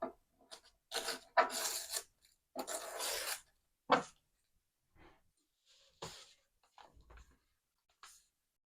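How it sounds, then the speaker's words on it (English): Paper torn off as excess from a layered envelope journal, several close, dry ripping strokes of differing length, the longest near the start, followed by fainter rustles and short tears. "And let me just tear off the excess here."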